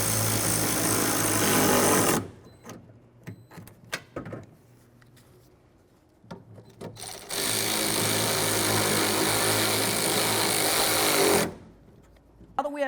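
A power tool tightens nuts on a 1998-2011 Ford Ranger front window regulator, with two long loud whirring bursts separated by a quieter stretch of clicks and handling knocks, close up, no talking.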